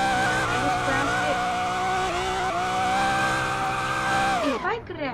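In the Driving Empire video game, a car engine drones steadily with a pitch that wavers as it drifts, then sweeps down sharply and cuts off near the end.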